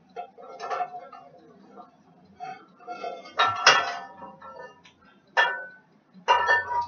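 Metal pans clank and clink in short bursts against a stovetop and utensils, close and sharp, with quiet pauses between the handling.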